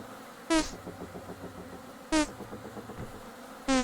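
Bees in the video game Vintage Story give three short, loud buzzing bursts at regular intervals over a soft, steady background hum, heard close with no talking.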